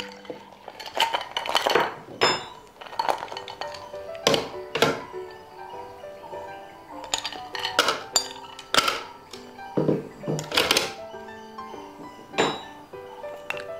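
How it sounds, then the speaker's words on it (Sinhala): Ice cubes drop into a glass or jug of homemade apple juice with lime, giving a scattered run of bright clinks and knocks, some in quick clusters, against a quiet kitchen background. "අපි දැන් අයිස් කැට ටික දාගමු."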